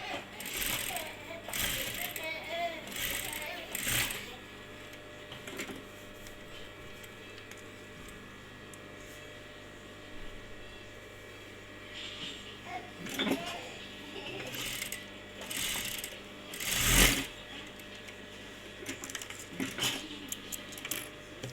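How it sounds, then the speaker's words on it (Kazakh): A sewing machine stitches darts in brown fabric for a face mask, running in short mechanical bursts with clicks and pauses between, fairly quiet and close. "Енді тігеміз. Мынау 2 выточкені тігіп аламыз."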